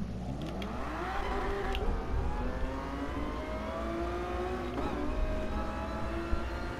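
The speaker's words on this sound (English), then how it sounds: "the rev bounce in this game whenever you shift up" A race car engine in GT Sport revs and climbs through gears, a steady buzzing drone rising in pitch with brief dips at upshifts, close and continuous throughout.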